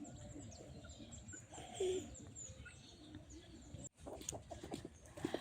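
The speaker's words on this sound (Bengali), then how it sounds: "তারপরে হচ্ছে পাখির কিচির মিচির" Soft bird calls and chirps sound faintly in a quiet outdoor setting, with a low cooing note and a sharp click partway through.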